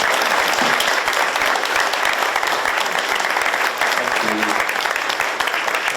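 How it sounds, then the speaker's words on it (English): An audience at a regional film Q&A breaks into sustained, dense applause, loud and continuous for the whole stretch with a voice briefly audible under it. "I think we should all give Ed a round of applause"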